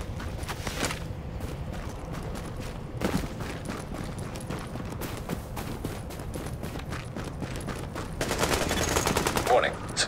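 Gunfire in the video game The Division, with scattered shots and short bursts crackling over a steady background, intensifying into a denser volley near the end.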